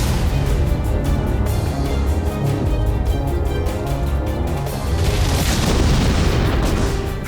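Drone, missile and rocket strikes hit Kyiv with heavy, loud, overlapping booms and rumbling blasts in a dense barrage, with no speech.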